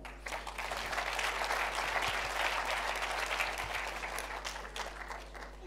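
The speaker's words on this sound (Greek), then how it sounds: "Οπότε χτυπάμε ξανά παλαμάκια." An audience at a 2018 shipping forum's executives panel gives sustained, loud applause, a steady wash of many hands clapping throughout with a faint low electrical hum beneath.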